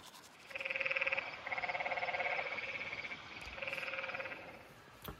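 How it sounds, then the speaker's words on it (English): Frogs call at night in the desert, a loud buzzing, pulsing chorus in repeated bursts of about a second each, separated by short pauses, with a faint hum underneath. "I had a hard time falling asleep last night because frogs were so loud"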